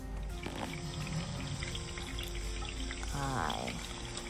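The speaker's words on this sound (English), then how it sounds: "So what we're about to do is to pour it into" Sautéed scallion and thyme are poured into a frying pan for a Jamaican-style breakfast, giving a continuous sizzle and splashing pour with a louder burst near the end, with no voices.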